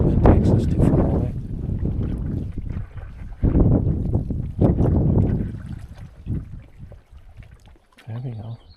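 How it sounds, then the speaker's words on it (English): Gusts of wind buffet the microphone in bursts while someone paddles on Paul Lake, with faint water sounds in the quieter gaps and a voice speaking briefly near the end. "when the wind starts pushing at your back like that"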